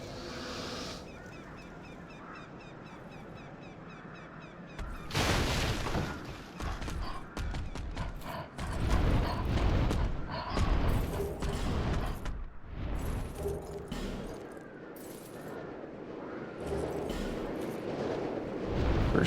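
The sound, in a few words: explosion in the video game Dark Souls II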